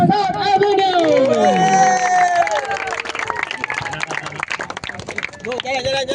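A crowd applauds the second-place under-14 team at a youth sports cup final, with clapping and cheering rising under an announcer's voice.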